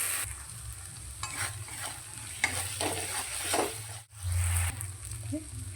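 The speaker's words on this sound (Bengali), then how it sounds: "মিডিয়াম টু লো ফ্লেমে মশলাটা খুব ভালো করে কষিয়ে নেব" Masala sautéing on a medium-low flame in a pan for a Bengali fig (dumur) curry, cooking until the oil separates; a continuous close sizzle and frying hiss with soft stirring scrapes, without speech.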